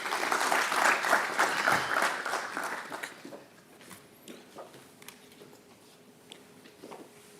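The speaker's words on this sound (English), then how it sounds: "Can we give a round of applause?" Audience applause at a cancer conference, loud and dense for about three seconds, then thinning to scattered claps that fade out.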